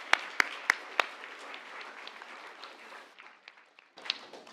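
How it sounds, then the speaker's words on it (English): An audience in a full room at a literary panel event applauds to welcome the panelists, with sustained clapping punctuated by a few sharp nearby claps that fades briefly and picks up again. "Please join me in giving a very warm welcome with your applause to both our panelists this afternoon."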